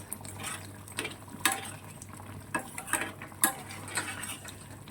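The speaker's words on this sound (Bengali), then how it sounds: "ঘি আর গরম মশলা দিয়ে এবার এটাকে নাড়িয়ে দেবো" A spoon stirs dhoka curry with ghee and garam masala in a pan, giving soft scraping and a few sharp clinks at irregular intervals over a faint steady sizzle, with no talking.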